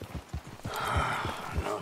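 A horse in Red Dead Redemption 2 clip-clops with a quick, close rhythm of hoofbeats, joined by a snorting breath in the middle.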